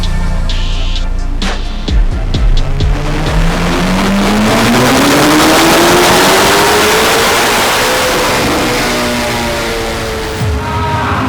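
A Corvette C8 ZR1 engine runs on a dyno. Its loud, close exhaust roar climbs steadily in pitch through a long sustained pull, then eases off near the end.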